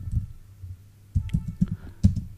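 Typing on a computer keyboard: a short burst of light clicks and taps, close and fairly quiet, a single thump at the start and a quick run of keystrokes in the second half.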